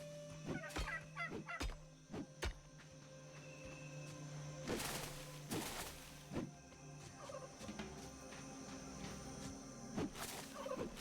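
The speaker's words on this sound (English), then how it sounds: "What was that sound? Oh, a bird." A bird calls in the Soul Mask video game, giving a few gobbling, clucking bursts against a quiet game backdrop, with louder sharp bursts scattered through the stretch and no talking.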